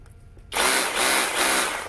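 A Toyoko rotary hammer drill for concrete switches on after a quiet moment and runs loud and close with a steady, buzzing whine that pulses slightly.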